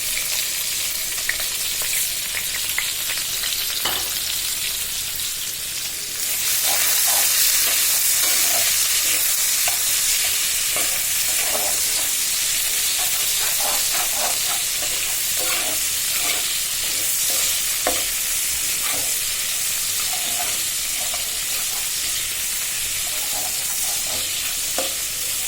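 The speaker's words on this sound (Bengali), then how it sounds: "এবার আমি তেলের মধ্যে কেটে রাখা পেঁয়াজ রসুন দিয়ে দিচ্ছি" Chopped onion and garlic sizzle in hot oil in a pan for a prawn curry, a close steady frying hiss that swells as they go in, with repeated scraping stirs throughout.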